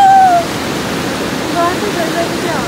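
The big Melamchi river rushes loud and close in one constant, dense roar, with a brief high call at the start while fishing for asala fish.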